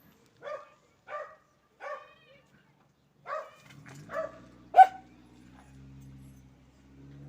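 A dog barks several times in a steady rhythm, sharp and fairly close, followed by a low droning hum.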